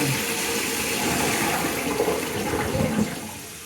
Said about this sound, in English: Let's flush the chain.